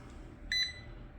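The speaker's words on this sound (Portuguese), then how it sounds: "De ele acender o LED e dar um bip, né? Quando ele faz a medição." A UNI-T UT89XD digital multimeter gives one short, clear electronic beep while measuring a PNP transistor, a brief high tone over a quiet background hum with no talking.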